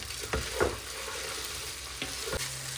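Biryani made with basmati rice and meat cooks in a very large pot over the heat. A steady soft sizzle runs throughout, broken by a few brief scraping stir strokes at close range, with no talk.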